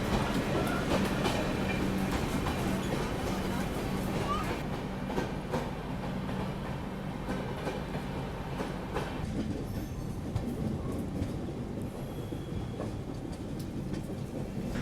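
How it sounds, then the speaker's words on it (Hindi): The Chhapra Express (Lokmanya Tilak–Chhapra), hauled by a WP5 locomotive, arrives at a railway station with a steady loud rumble and clattering wheels that continue throughout, easing slightly toward the end. "और सामने से WP5 के साथ किसी ट्रेन का अराइवल हो रहा है।"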